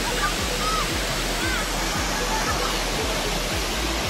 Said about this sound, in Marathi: आवाज येतोय. हा बघा धबधबा.